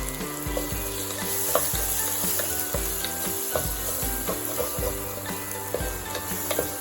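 Tomatoes with chopped and crushed garlic sizzle steadily in a frying pan for butter chicken, with rhythmic scraping and clicking as the mixture is stirred, close and uninterrupted.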